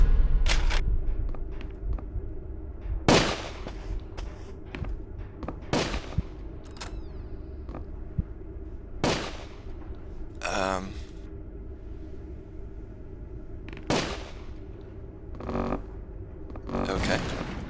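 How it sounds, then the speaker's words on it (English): Repeated gunshots from allied soldiers in Call of Cthulhu: Dark Corners of the Earth, sharp bursts scattered irregularly across the scene, some single and some in quick pairs, mid-distance over a low game ambience. "Guys, you can stop shooting."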